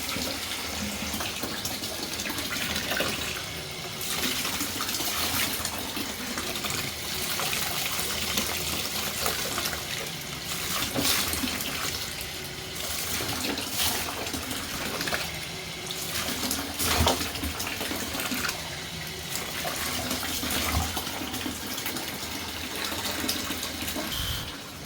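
Hot running water rinsing parts of a Bissell 6585 carpet cleaner during a repair, a steady close splashing gush that continues without break, varying slightly in intensity as the stream hits the plastic pieces.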